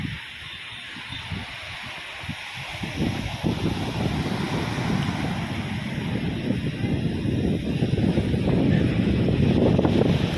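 Wind gusts buffet the microphone on a beachside path in Kochi in a low roaring rush that grows stronger and steadier over time, with a faint wash of surf behind.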